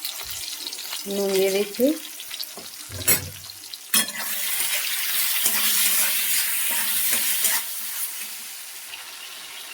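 Tomatoes frying with panch phoron in a hot pan, a steady sizzle that swells as they go in. Stirring clinks and taps come through, and a voice talks over the cooking.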